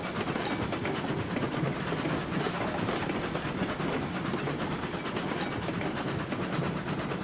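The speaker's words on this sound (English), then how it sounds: "We'll just have to see how it goes when the train comes rolling through there." A train in the video game RailRoads Online hauling cars along the track near a logging camp, with a steady rumble and clickety-clack of wheels on rails running continuously and fairly loud, with no voices.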